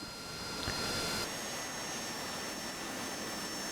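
AV-8B Harrier jet engine in the DCS World flight simulator, a steady loud roaring whine with a high tonal edge, holding level for several seconds without talk.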